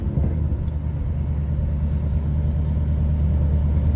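Low, steady engine rumble from a car out on a test drive after a 6-speed manual swap, a continuous droning hum filling the moment without any break or voices.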